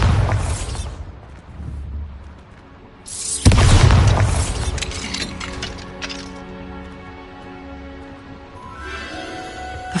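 Bombarda blasting spell in the Hogwarts Legacy video game: a sudden loud boom with shattering, glassy debris, followed by a ringing, tonal magical decay, under a brief earlier burst and game music.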